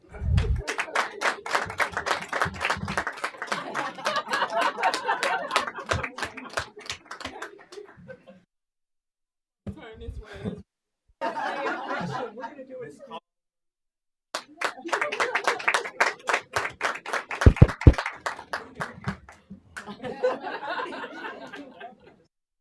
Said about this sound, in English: I want a big round of applause for the best board in the state of Michigan